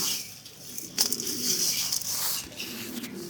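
Satinette pigeons coo softly and repeatedly in a breeding loft, close and low, with faint chirps around them and no speech.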